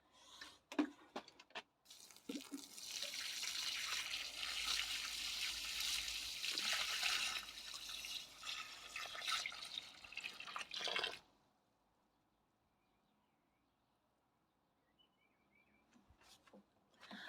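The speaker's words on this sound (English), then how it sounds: "A lot of the water's trickling away, so it is going down into the ground" Garden being watered by hand, water splashing and trickling steadily into the ground for several seconds before stopping abruptly, leaving near silence with a few faint drips and knocks at the start and end.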